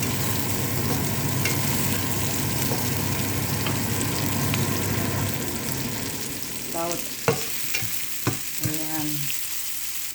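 Onion and garlic sizzle steadily in a hot pan for an adobong balatong base, a dense frying hiss broken near the end by a few clinking stirs of a utensil; a voice speaks briefly.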